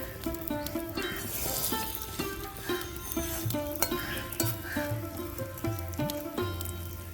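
Faint sizzling and light stirring from brinjal frying in a covered pan on the stove, with background music playing throughout.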